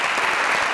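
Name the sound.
studio audience applause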